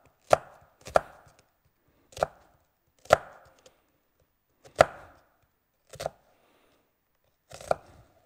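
Knife chopping onion on a cutting board in a home kitchen: seven sharp, distinct chops in an uneven rhythm with short pauses between them, close and clear, with no talking.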